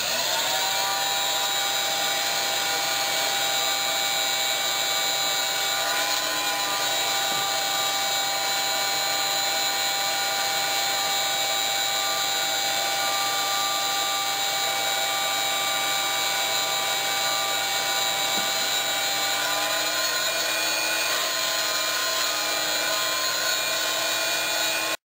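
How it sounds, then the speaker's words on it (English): A carpet shampooer or shop vac whines steadily and continuously at close range for the whole stretch while cleaning salt stains from interior carpeting, with a high, even motor tone and no talking. "Now we're going to go at it with our shampooer / shop vac,"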